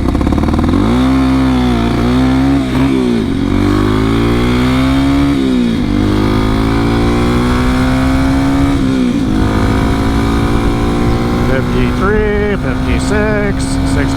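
An old Sherpa with a 6-speed gearbox revs hard at a steady pitch on the highway during a max speed run, its loud engine drone climbing through gears with brief dips at shifts.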